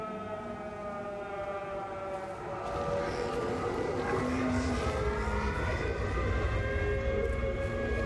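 An air raid siren in the video game Everybody's Gone to the Rapture wails with sustained rising and falling tones, swelling louder partway through over a steady low rumble.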